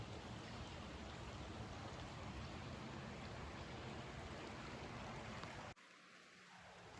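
A creek flowing through a hemlock forest on a ridge trail, a dense steady rush of water that cuts off abruptly near the end, followed by a brief faint tone.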